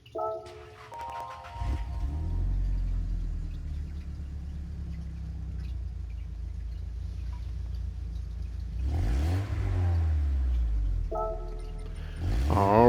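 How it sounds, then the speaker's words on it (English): A 1998 Nissan Sileighty engine in Gran Turismo 7 cranks and starts with a starter chatter, settles into a steady low idle, then blips through two loud revs before starting again, alone with no talk. "So I'm going to click on this car and we'll listen to the startup sound"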